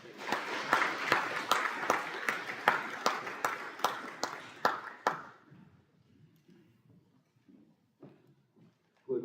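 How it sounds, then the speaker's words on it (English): An audience at a high school awards evening claps for participating students. The applause is brisk and rhythmic for about five seconds, then quickly dies away into a quiet hall. "So a round of applause for those participating"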